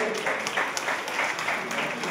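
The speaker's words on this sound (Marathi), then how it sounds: "त्यांच्यासाठी एकदा उत्स्फूर्त आणि उदंड टाळ्यांचा प्रतिसाद होऊ दे" Audience applause at a Konkan bhajan concert celebrating a singer's 75th birthday, steady dense clapping from a crowd sustained evenly throughout without any speech.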